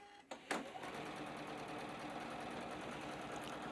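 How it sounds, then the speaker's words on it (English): A sewing machine stitches quilt block seams at a quarter-inch allowance, running in a steady, close, continuous whir after a brief click at the start. "I'm going to bring it over to the sewing machine and stitch those down with that 1/4 inch"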